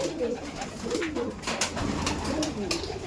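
Kaldom pigeons, a breeding pair kept in a home loft, coo softly in repeated low murmurs over steady background noise, with no talking.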